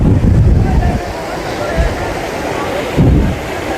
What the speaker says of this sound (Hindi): ठीक सामने आप देख पा रहे होंगे माँ गंगा के तेज लहरें।